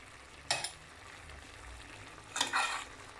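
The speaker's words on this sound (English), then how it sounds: "I'm going to stir it in" Mutton and cabbage being stirred in a pot, two distinct bursts of scraping and sizzling stirring over a faint quiet background, the second longer than the first.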